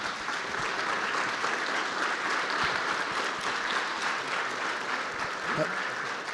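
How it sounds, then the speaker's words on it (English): Steady applause from an audience for a business podcast panel, continuous broadband clapping held for several seconds, with a brief voice surfacing near the end. "How about a round of applause for this panel here?"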